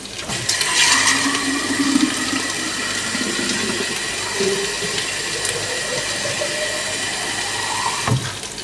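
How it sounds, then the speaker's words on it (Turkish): Water gushes steadily into a pot of lentil soup holding onion and potato. The close, continuous pour rises in pitch as the pot fills and ends with a short splash. "Suyumuzu koyalım."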